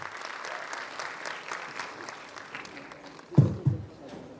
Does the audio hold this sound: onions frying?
no